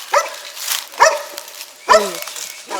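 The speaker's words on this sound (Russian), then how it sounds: "Ты чего гавкаешь?" A dog at an abandoned military base barks three times in sharp, evenly spaced bursts, close and loud, with a person's voice nearby.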